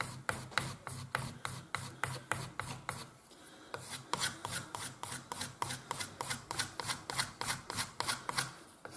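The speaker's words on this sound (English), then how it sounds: "Let me just sharpen my knife." Knife blade drawn repeatedly across a sharpener while making a leather wallet, a brisk rhythmic series of close scraping strokes with one short pause partway through.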